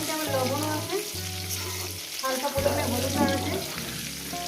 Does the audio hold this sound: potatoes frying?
yes